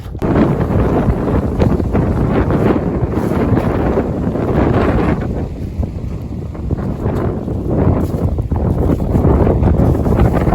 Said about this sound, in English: it is so windy and cold up here.